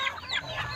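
Backyard chickens cluck in a brief, close burst of soft overlapping calls, with no other sound.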